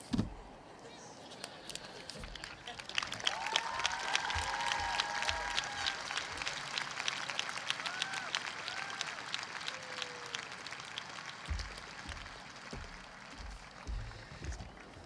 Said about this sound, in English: Let's give a nice round of applause to all our student speakers and faculty speaker.